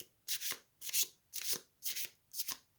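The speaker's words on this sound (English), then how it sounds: "let me spend a moment and really give them a good shuffle" A deck of crystal oracle cards is hand-shuffled close up in five even, rhythmic swishing passes, each one a brisk papery rustle with short pauses between.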